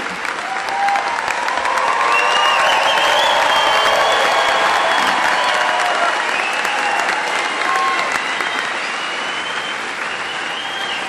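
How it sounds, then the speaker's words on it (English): Loud, sustained applause and cheering from parents and family filling a hall at a 2014 convocation ceremony for graduates, continuous for several seconds with whoops rising above the clapping. "Parents, family members, cheer for your amazing graduate."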